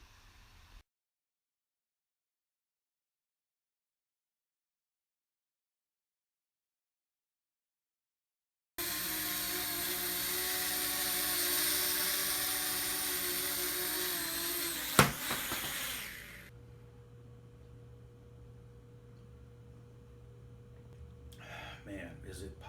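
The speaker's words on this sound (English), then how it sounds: "That was my video for this video drone, the VideoDrone AP by Protocol." Steady whirring buzz of a VideoDrone AP by Protocol budget drone flying outdoors, a continuous mid-loud motor drone lasting several seconds before fading as it lands, with a sharp click in the middle.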